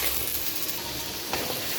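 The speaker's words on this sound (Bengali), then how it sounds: "এটার ভিতরে দিয়েছি এলাচ, দারচিনি, লবঙ্গ, আদা বাটা, রসুন বাটা, পেঁয়াজ বাটা, এগুলো দিয়ে ভালোভাবে এটাকে ভেজে নিব।" Paste of onion, garlic and ginger with cardamom, cinnamon and cloves frying in a pan for meat bhuna, giving a steady close sizzle and hiss with a brief louder crackle partway through, no voices.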